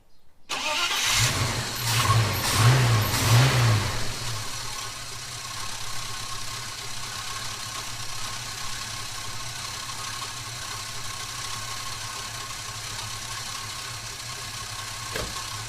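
A Holden HK Premier wagon engine cranks and fires, blips through a few throttle revs, then settles into a steady, low, even idle that carries on for over ten seconds.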